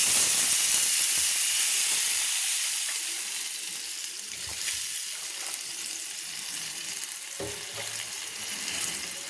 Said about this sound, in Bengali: প্রয়োজন মতো আমি জল ঢেলে দিচ্ছি।